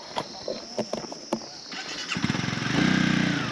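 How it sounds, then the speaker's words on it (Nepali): A few sharp knocks and clatters, then a motorcycle engine starts up close by and settles into a loud, throbbing idle. "तलै जान्छ बाइक"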